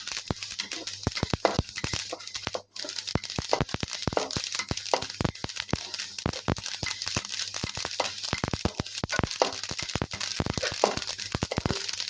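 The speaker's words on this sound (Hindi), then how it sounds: "इससे भी आवाज़ें आना शुरू हो जाएंगी, हमारे तिल भी भून जाएंगे।" Dense, steady crackling and popping of sesame seeds roasting in a hot pan, with quick sharp ticks scattered throughout at moderate loudness, no voices.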